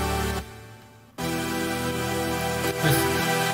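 Dry future bass synth chords from FL Studio, played with no effects, thick sustained stabs with a short gap and a pitch change near the end, loud with no voices.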